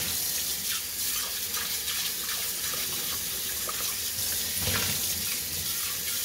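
Tap water runs steadily into a sink as an aluminium pan is washed, a loud continuous hiss broken by occasional splashes and scrubbing knocks, up close with no speech.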